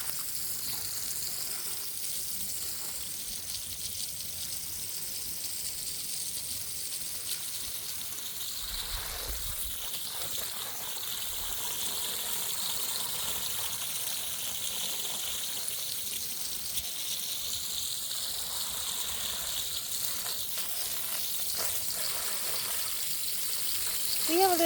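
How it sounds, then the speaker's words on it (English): Water sprayed onto spring onions in a backyard organic garden gives a steady, soft hiss running the whole way through at an even level, with faint low noises beneath it. "I need to spray water on my spring onions."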